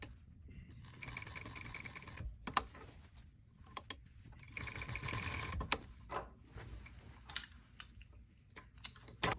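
A 100-year-old sewing machine double-stitches the ends of a tailored back welt pocket in short bursts of rapid mechanical chatter, separated by pauses and small clicks and taps as the fabric is turned; no one speaks.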